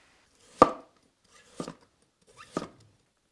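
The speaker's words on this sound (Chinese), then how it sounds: "再切一点莴笋片，放在蒸盘底下" A knife slices celtuce (stem lettuce) on a cutting board in three distinct, spaced chops, each a sharp close thunk with a short crisp tail, with quiet between them.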